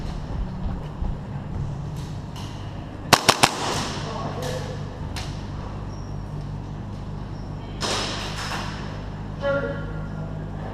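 Airsoft gun shots ring out during a game: a quick cluster of three sharp snaps midway, with a few softer pops around them, under ongoing talk and outdoor background noise.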